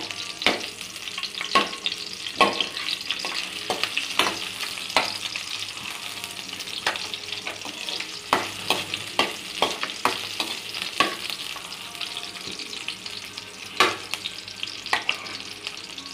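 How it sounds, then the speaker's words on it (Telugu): Onions fry in a pan for a mixed vegetable chutney, a continuous sizzle broken by regular sharp spatula scrapes and knocks, close and without voices. "బాగా ఇలా ఉల్లిపాయని వేపుకోవాలి."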